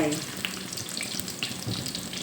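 Thai fish cakes made from mackerel fish paste frying in hot oil, a steady close sizzle and crackle with small pops, no talking over it.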